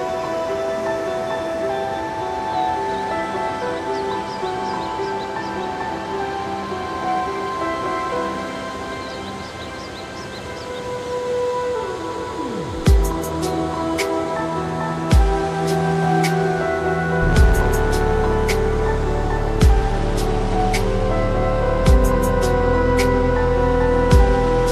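A mountain waterfall in Kumrat pours down from high above, its loud, steady broadband roar filling the whole clip, joined later by sharp thumps and knocks close by.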